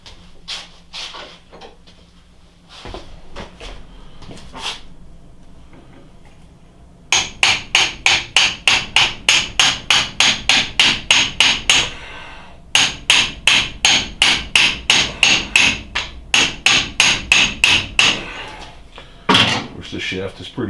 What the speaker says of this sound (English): let me get something to tap with